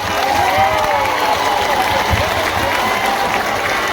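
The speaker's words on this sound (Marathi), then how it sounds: "जोरदार टाळी" Steady applause from a crowd at a Banjara community protest rally in Beed, a dense continuous clatter of clapping held at even loudness for the whole stretch with a murmur of voices beneath.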